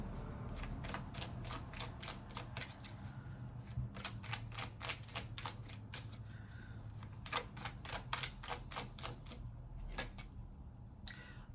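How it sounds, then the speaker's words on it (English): Tarot cards shuffled and pulled by hand, giving a long run of rapid, crisp riffling flicks in bursts, close and moderately loud, with no talk. "Now I gotta pull one more card because I can't end like that."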